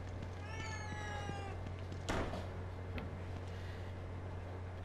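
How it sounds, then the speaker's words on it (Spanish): A cat in a horror video game gives a drawn-out meow near the start against a low steady hum, followed by a short thud and faint background noises. "Un gato."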